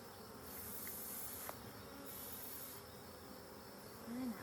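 Bees buzz steadily around an opened hive during a gentle inspection, a soft continuous drone with a few brief higher whines passing close, no talk.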